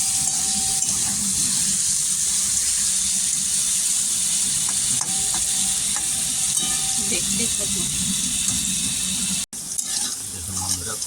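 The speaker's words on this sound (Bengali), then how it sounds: "দেখুন বন্ধুরা, করকরে করে পুরো উচ্ছে ভাজা হয়ে গেছে, আর একটু লাল হবে।" Bitter gourd fries crisply in a pan, a constant close sizzle with occasional stirring scrapes and clicks, and a brief spoken line partway through.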